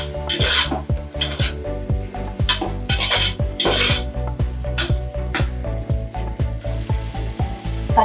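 Cleaned mushrooms stirred into biryani masala in a pan, giving a steady close sizzle with repeated utensil scrapes and clinks against the pan over tonal background music.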